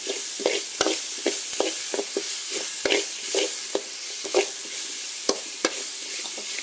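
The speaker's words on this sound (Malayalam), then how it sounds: "നമ്മുടെ പാവയ്ക്കായ ഉള്ളിയൊക്കെ നന്നായിട്ട് വഴന്ന് വന്നിട്ടുണ്ടെങ്കിൽ നമുക്ക് ആ എടുത്ത് വെച്ചിരിക്കുന്ന തക്കാളി ചേർത്ത് കൊടുക്കാം." Bitter gourd and onions sizzle in a pan for a Kerala-style theeyal, with a spatula scraping and knocking in a quick, uneven rhythm, close and clear, as tomatoes are stirred in.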